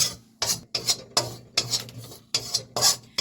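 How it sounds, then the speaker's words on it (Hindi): Ajwain powder roasting in a hot kadhai, with a spoon rasping and scraping across the metal in about eight quick, evenly spaced strokes, close and clear with no talk. "तो ये जो अजवाइन हमने ली थी ना, अजवाइन का पाउडर, इसको भी भून लेते हैं।"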